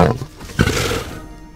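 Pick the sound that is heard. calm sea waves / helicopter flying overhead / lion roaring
lion roaring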